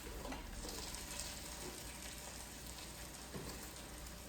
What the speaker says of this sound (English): go ahead and throw the mushrooms in. Then I'm gonna heavily salt and pepper